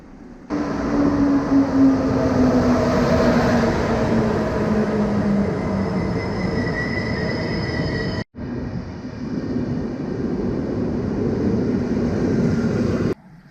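A train passes at the railway station in Gniezno with a loud, sustained rolling rumble and a high metallic whine. The sound breaks off briefly partway through, then resumes just as strongly. No one speaks.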